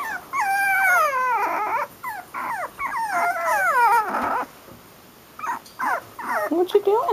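Several puppies whimper and howl in rising and falling wavering cries that come in repeated bursts with short pauses, close and fairly loud.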